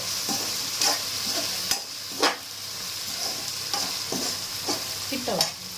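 Okra stir-frying in a pan, a steady close sizzle broken by repeated scraping stirs, with no one talking.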